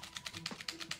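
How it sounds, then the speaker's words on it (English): Fast, rhythmic keystrokes on a keyboard connected to a DASUNG Paperlike Color e-ink monitor, roughly a dozen light clicks in a steady patter, close and fairly quiet. "The typing is not too bad."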